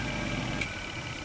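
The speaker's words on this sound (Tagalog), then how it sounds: "Gumagana na yung ating motor." Automatic washing machine motor, converted to manual wiring, humming steadily in a brief close-up clip, an even mid-pitched drone with slight vibration.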